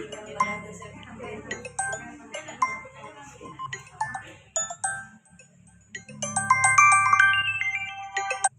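Phone ringtone playing a bright, repeating electronic melody that starts under a woman's speech and grows louder and clearer near the end.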